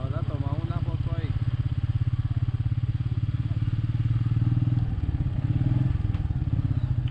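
Motorcycle ride through rural towns of Boyacá, Colombia, with the engine's steady low putter close by and loud, a slight rise and fall in revs partway through, no talk.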